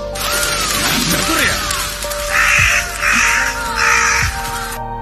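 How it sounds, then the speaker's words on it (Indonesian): Crows in Naruto Shippuden swooping in to attack Akatsuki members, with harsh repeated caws over a busy anime soundtrack, three loud drawn-out calls in steady succession near the end. "muncullah segerombolan burung gagak yang menyerang anggota Akatsuki"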